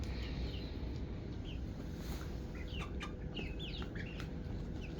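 Ten-week-old chickens cluck softly in a pen, scattered short calls over a steady low background rumble.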